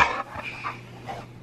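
A puppy gives a quick, sharp sneeze up close, followed by a couple of softer snuffly breaths.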